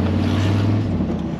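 A 1968 Ford F100 pickup's 308 engine idles loud and close in a steady low rumble, with wind buffeting the microphone and no voices over it.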